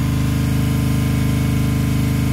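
A plaster mixing machine with two motors and a mixing tank runs steadily on a renovation site, a loud, continuous mechanical drone with a regular pulsing rhythm throughout.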